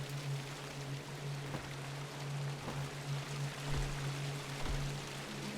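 A waterfall in the dungeon game Grimrock 2 rushes in a steady, even hiss of falling water, with a low hum beneath and a few soft thuds partway through.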